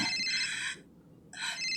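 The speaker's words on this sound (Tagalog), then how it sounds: "Ti cellphone ko." A mobile phone ringtone plays close by, two bright melodic bursts separated by a short pause, with no talking.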